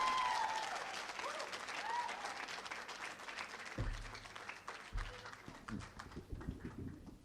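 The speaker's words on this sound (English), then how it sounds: "Clap for her, ladies and gentlemen, please." Audience applause at the Kabafest 2019 welcome ceremony, a sustained wash of many hands clapping that stays fairly loud through the whole stretch, with scattered louder claps and a few thumps near the end.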